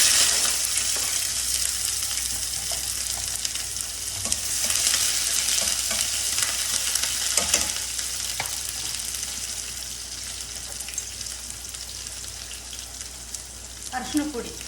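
Mustard seeds, cumin and onion fry in hot oil for a brinjal palya, producing a dense, close crackling sizzle with intermittent stirring scrapes, easing slightly in the second half before a final burst of clatter.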